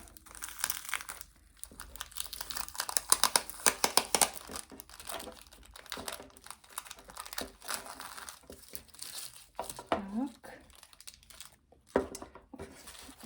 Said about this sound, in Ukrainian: знімається скотч разом з е, біркою, там, де написана назва